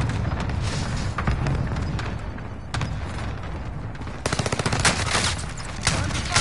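Shotgun blasts and other gunfire ring out in a video game, with dense volleys of sharp reports and a rapid rattling stretch later on, over constant game noise.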